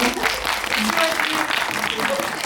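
Audience at a Korean film screening and guest talk for the movie Dokchin claps steadily in a dense, sustained round, with voices speaking over the applause throughout.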